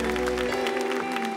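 Church congregation applauding during a Catholic devotional gathering before Mass, a dense patter of claps that swells briefly alongside a sustained musical tone, heard in a large indoor space.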